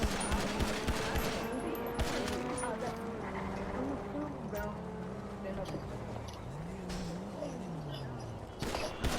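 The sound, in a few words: gunfire, many bullets fired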